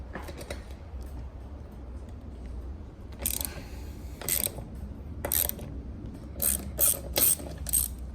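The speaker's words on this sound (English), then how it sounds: "just take your socket wrench with a 12 on it" A socket wrench with a 12 mm socket ratchets out the roof rail bolts on a 5th-generation Toyota 4Runner, giving short bursts of quick clicking with pauses between them over a low outdoor background hum.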